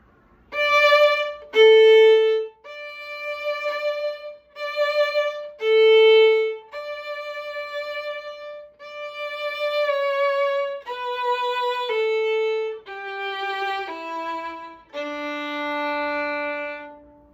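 A solo violin plays a simple, slow tune with slurred, connected notes, each phrase smooth and sustained, alone with no other sounds.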